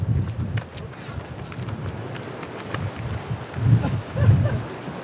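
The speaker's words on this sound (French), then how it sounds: "avec le vent qu'il y a, il y a pas mal de houle" Wind blows over a choppy sea near a boat off the Spanish coast, with a fair swell running. Gusts buffet the microphone in a low, uneven rumble that swells louder toward the end.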